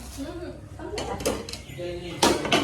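Plates clink and clatter as food is served at a home meal of snacks and yogurt, with several short ceramic knocks under steady conversation.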